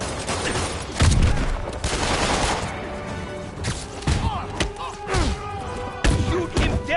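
Gunfire in a PS4 video game, with loud, dense bursts of shots and heavy impacts layered over a noisy action soundtrack, as voices shout in between.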